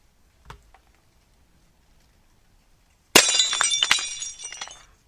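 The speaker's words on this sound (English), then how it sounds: "The sound of breaking glass." Glass shatters suddenly after a near-silent stretch broken by one faint click, then tinkling shards scatter and settle over about two seconds, sharp and fairly close.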